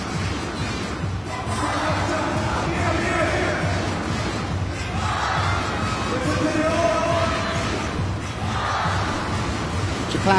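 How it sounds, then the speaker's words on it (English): Volleyball crowd at a USA versus Japan women's world championship match cheering in loud sustained waves that swell and ease, broad roaring noise with shouts, filling the whole space. "The crowd giving everything here."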